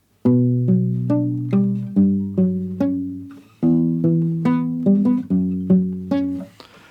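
Fingerstyle classical guitar plays a short intro, plucked notes ringing over bass tones in a steady, gentle rhythm, close and clear with no talking.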